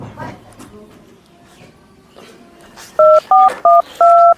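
A quick run of five mobile phone keypad tones beeps loudly near the end as a number is dialed, following muffled background chatter and rustling.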